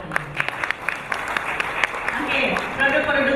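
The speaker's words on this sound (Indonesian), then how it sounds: "Tepuk tangan lagi." Audience applause at a business opportunity presentation for a health product company, a dense steady patter of many hands clapping that swells slightly toward the end, with a voice faintly underneath.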